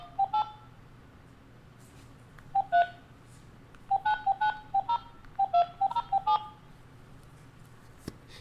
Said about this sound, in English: Enter the 10-digit phone number associated with your account.